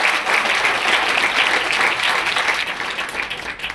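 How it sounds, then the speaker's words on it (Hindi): Loud, sustained applause from an audience at a business success seminar in Raipur, Chhattisgarh, a dense steady roar of many clapping hands that holds for several seconds before easing slightly. "जोरदार तालियां होनी चाहिए।"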